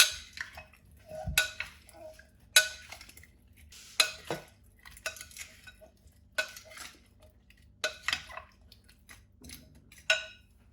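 A spoon clinks and scrapes against a bowl as a rice, chicken and potato mixture is stirred with a little water, giving intermittent near metallic knocks and soft wet stirring sounds between quiet pauses.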